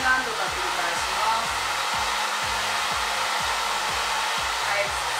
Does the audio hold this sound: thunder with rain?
no